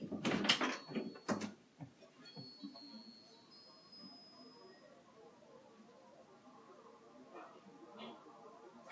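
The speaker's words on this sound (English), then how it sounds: "And I'll open the door." A door is opened indoors with a few sharp clunks and knocks at the start, followed by quieter rustling and faint room noise.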